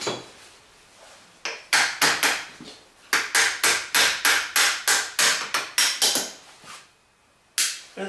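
A hammer taps on a motorcycle part during a CBR600 beach racer build. Sharp metallic strikes come close and loud in quick bursts with short pauses between them.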